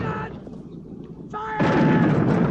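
Artillery cannons fire in a Zulu battle film, a loud boom near the end following shouted orders, with some rumble between the shots.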